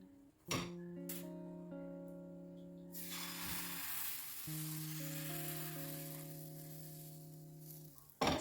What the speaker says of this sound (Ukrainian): І так смажу всі налисники.